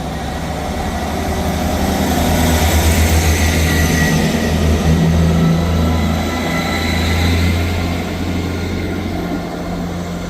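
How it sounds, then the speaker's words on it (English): A ScotRail Class 158 diesel multiple unit arrives at Inverkeithing station, its engine drone and rumble loud and steady throughout with rolling wheel noise. "Arriving in now is the 1245 Scotrail service from Dundee to Edinburgh Waverley, 158730."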